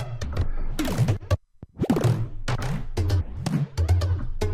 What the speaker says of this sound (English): I'm just playing notes on the keyboard